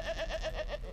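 A goat in a video game gives a quick, rapidly pulsing bleat lasting about a second, close and clear against a low background rumble.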